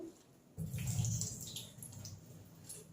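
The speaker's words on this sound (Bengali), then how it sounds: "ছোলাটা ভালো করে ধুয়ে নিই, ধুয়ে জলটা ফেলে দেবো" Chickpeas are swished and rinsed in a bowl of water, a soft splashing and sloshing that starts abruptly and continues quietly close by.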